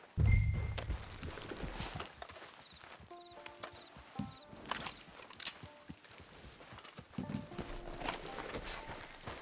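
Horse hooves clip-clopping at a walk in Red Dead Online, a clear nearby rhythm of steps with a brief snort at the start and faint game sounds around it.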